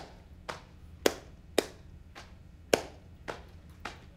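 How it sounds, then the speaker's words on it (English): A group performs a rhythm pattern of hand claps and slaps at a math talk: seven sharp, separate hits spaced about half a second apart, some louder and some softer, with quiet room tone between them. "Each X for your group A is a clap, each O is a slap."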